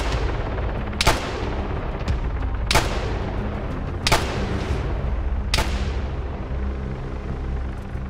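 Gunfire in the military game ARMA 3: four heavy, sharp shots spaced a second or two apart, each followed by a long echoing decay, over a steady low rumble of background noise.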